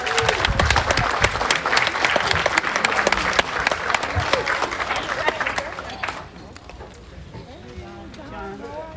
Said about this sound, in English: Round of applause for our concert band and Mr. Elliott.